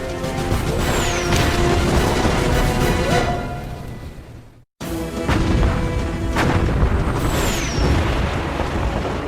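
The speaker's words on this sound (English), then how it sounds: "the German battleship Bismarck and heavy cruiser Prinz Eugen, exchange fire with the pride of the British Navy, HMS Hood and Prince of Wales" Heavy naval gunfire, as the German battleship Bismarck and the cruiser Prinz Eugen fire on HMS Hood, in loud booming salvos with a rumbling roar, broken by a brief silent gap midway, with no talking.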